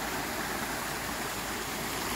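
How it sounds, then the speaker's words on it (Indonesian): River water flows steadily along a rocky bed with a constant broad rushing wash, close and even throughout, with no voices. "Nampak air mengalir."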